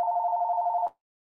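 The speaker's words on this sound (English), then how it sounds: "sorry, the phone's ringing" A telephone bell rings in one steady, continuous trill for under a second, then cuts off abruptly into silence; moderately loud and alone.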